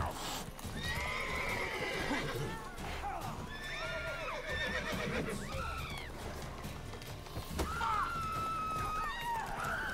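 Horses in the souls-like action game Blade of God X neigh and whinny repeatedly with clip-clopping hooves, over a dense, busy game soundscape.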